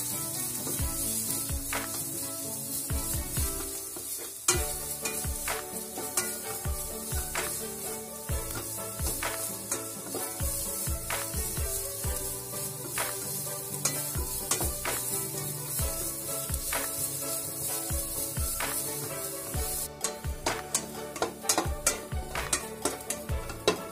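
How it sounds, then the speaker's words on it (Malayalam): Carrot, cabbage, beans and capsicum stir-fry for egg fried rice with a loud, constant sizzle cut by repeated clanks and scrapes of a spatula against the pan in a steady rhythm. "ഇതിലേക്ക് ക്യാരറ്റ്, കാബേജ്, ബീൻസ്, ക്യാപ്സിക്കം എല്ലാം ഇട്ടൊന്ന് നന്നായി ഇളക്കിയെടുക്കും."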